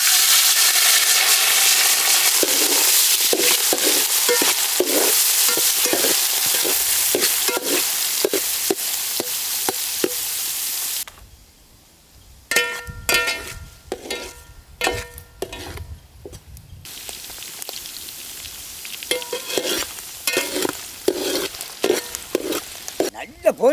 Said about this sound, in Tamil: நெய்யில் கறி அழகாக வறுத்து எடுக்கணுமுக்கா